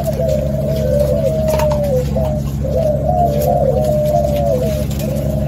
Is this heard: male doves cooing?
yes